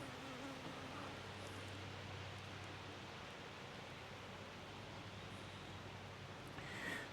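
A continuous, dense buzzing drone of many honey bees on a hive frame fills the clip at a steady low level, close and unbroken.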